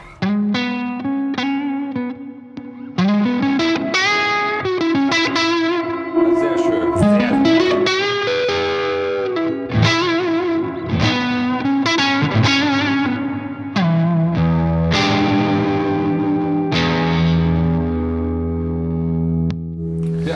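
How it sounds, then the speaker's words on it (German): An electric guitar played through a boost with a classic, saturated distortion tone, likely via an Ampete Two, strums and picks chords and single notes for about twenty seconds, close and loud, before a voice speaks briefly at the end. "von eine sehr, sehr klassische Verzerrung, würde ich mal sagen"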